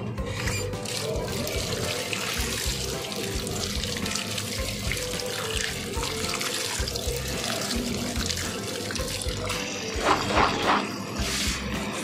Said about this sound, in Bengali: এবার কলটা ছেড়ে আমি এগুলোকে ভালো করে ধুয়ে নেব।